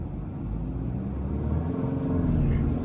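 A manual Toyota Tacoma crawls off-road in four-low first gear, its engine a steady, close low rumble with a slight rise in pitch toward the end, and no talk over it.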